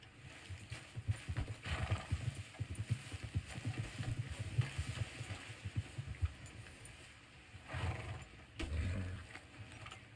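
A horse's hooves clip-clop steadily in Red Dead Redemption 2, a quick rhythmic patter close by with louder bursts near the end, no talking.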